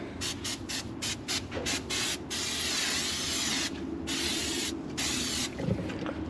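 Aerosol cooking spray hisses in a run of short bursts, then one long continuous spray, with a few more quick puffs at the end, close by.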